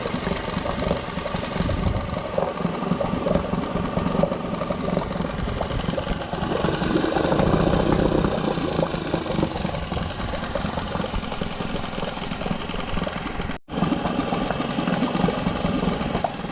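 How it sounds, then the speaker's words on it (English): An old outboard motor from around 1985–1987 idles steadily with a rough, knocking chug, close and fairly loud, broken by a brief dropout near the end. "Not bad for an old outboard."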